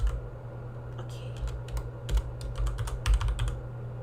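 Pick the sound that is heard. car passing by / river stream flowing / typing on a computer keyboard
typing on a computer keyboard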